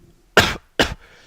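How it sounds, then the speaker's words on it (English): Two sharp coughs in quick succession, close and loud, separated by a brief pause, with quiet in between. "Excuse me, I had to cough there."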